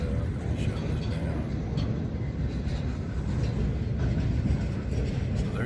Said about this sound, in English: Fairly unusual thing, a blade train